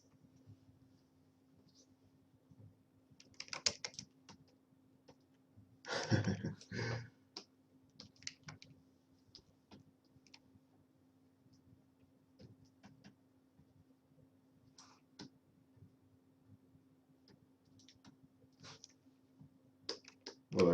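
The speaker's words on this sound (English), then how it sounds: "Well, I've been typing for a lot of years." Sporadic bursts of keystrokes on a computer keyboard, quiet and close, with short flurries of clicks separated by pauses and a faint steady hum underneath.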